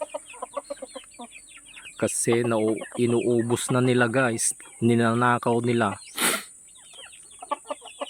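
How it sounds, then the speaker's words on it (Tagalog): Chickens, Barred Plymouth Rock crossed with Rhode Island Red, cluck in short bursts while someone speaks over them, with a couple of sharp clicks and a louder squawk near the end. "kukunin natin yung mga manok natin dito oh"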